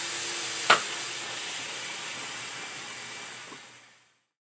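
Steam hissing from a steamer used to loosen the neck joint of a Yamaha FG230 12-string acoustic guitar, a faint, steady breathy hiss opened by a sharp click, then fading out as it is shut off.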